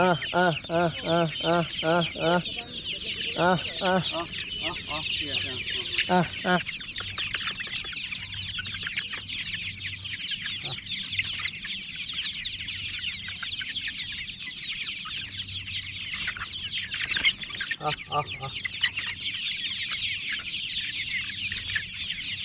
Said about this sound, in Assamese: এয়া হৈছে মুৰ্গী যথেষ্ট মুৰ্গী আছে ইয়াত